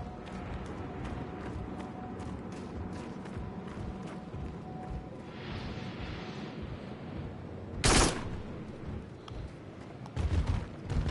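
Rifle fire in the Farpoint PSVR video game: a string of sharp repeated shots over rumbling game ambience, with one louder blast near the end.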